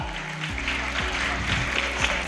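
Applause from the audience at a school investiture ceremony, a steady wash of clapping held for a couple of seconds with a low background hum beneath it.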